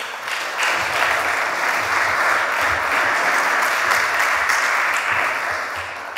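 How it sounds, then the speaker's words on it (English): Sustained audience applause for a guest invited onto the stage at a church discipleship event, a dense, even wash of many hands clapping that holds steady for several seconds before easing slightly. "Matthias, please give him a round of applause."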